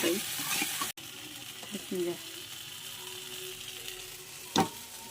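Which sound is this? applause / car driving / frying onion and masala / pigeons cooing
frying onion and masala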